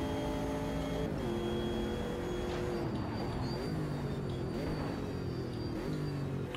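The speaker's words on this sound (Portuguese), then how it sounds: "Vamos ver o freio dele aqui." A race car in the Automobilista 2 sim slows under braking, its engine note stepping down through several gear changes with a steady tire and road hum, fairly quiet and without talk.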